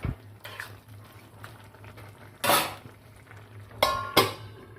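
A cabbage and moong dal curry is stirred in a pan, with scraping spoon strokes and a few sharp clinks of metal on the pan's rim against a low background hum.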